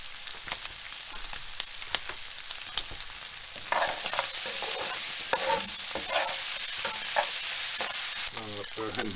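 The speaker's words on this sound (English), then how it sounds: "Just cook that for about, I don't know, 3 or 4 minutes so the onions start cooking" Onions frying in a pan with mashed potato to follow, loud continuous sizzling broken by sharp crackles and stirring scrapes, growing hotter partway through, with no talking.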